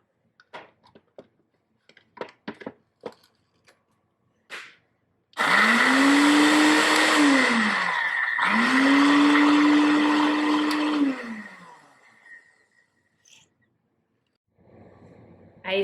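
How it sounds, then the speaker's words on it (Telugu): An electric mixie grinder blends strawberries with two spoons of sugar for a milkshake, roaring loudly in two long bursts with a brief pause between them, after a few light clicks and taps. "వీటిని ముందుగా బాగా మిక్సీ పట్టిన తర్వాత పాలు వేసుకోవాలి."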